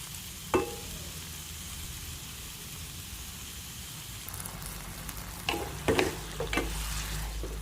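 A quick stir-fry being stirred in a hot pan just after oyster sauce goes in, a steady sizzle with a few sharp utensil clatters and scrapes toward the end, no talking.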